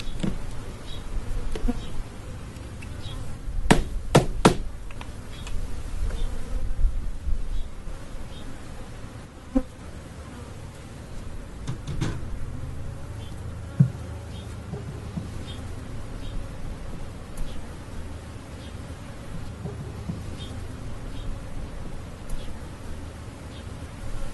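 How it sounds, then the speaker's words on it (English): A steady, dense hum of many honey bees buzzing close by in a polystyrene nucleus hive, with occasional clicks and light knocks over the drone. "we've got a fair few bees in here."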